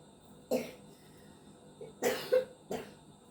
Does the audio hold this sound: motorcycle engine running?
no